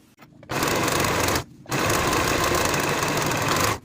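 A sewing machine finishes the top edge of a pair of shorts, running in two loud, steady whirring bursts of rapid stitching, the first about a second long and the second longer, with a short pause between.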